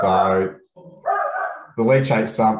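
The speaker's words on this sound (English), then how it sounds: "sorry about the dog barking in the background there." A dog barks in the background, its barks mixed in with a voice as he speaks about a landfill leachate sump.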